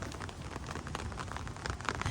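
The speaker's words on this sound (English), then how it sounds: "But now it's like raining." Rain falls steadily outdoors near a Jeep being decorated for Halloween, a close, continuous patter with scattered louder drops hitting a nearby surface.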